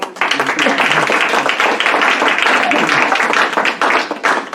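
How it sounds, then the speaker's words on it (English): An audience at a speaker event claps in sustained applause, a dense, loud patter of many hands that runs throughout, with a voice talking over it. "You're allowed to applaud that, yeah."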